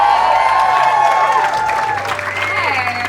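A comedy-show audience in Somerville, Massachusetts claps and cheers in a loud, continuous wash of applause, with voices talking over it.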